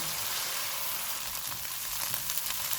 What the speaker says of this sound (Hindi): ऑयल गर्म हो गया, इसमें चॉप किए हुए 2 प्याज डालेंगे। चूल्हे को मीडियम रखेंगे, इनको 8 से 10 मिनट तक भूनेंगे।